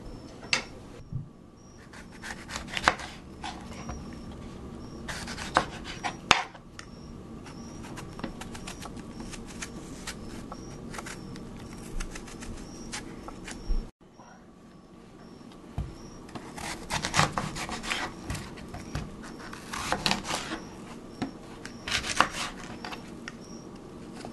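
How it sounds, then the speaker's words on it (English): Peeling and coring an apple with a knife: steady soft scraping and rubbing with intermittent knife taps and clicks, close up and continuous, with no talking. "Next, you have to peel and core the apple."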